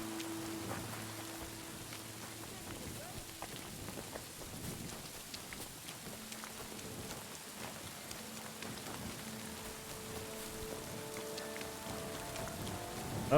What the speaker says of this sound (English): Have fun in the rain.